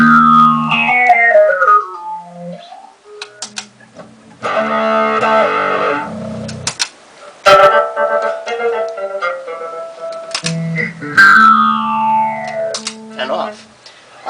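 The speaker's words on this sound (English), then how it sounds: "For a phaser sound, along with the overdrive" An electric guitar played through an EFX MKII pedal system with phaser and overdrive gives distorted, sweeping chords and sliding notes in bursts with short gaps between phrases.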